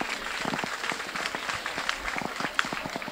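Scattered applause crackles through a hall at the launch of a school gender and health project, moderate in volume with irregular claps and faint background voices.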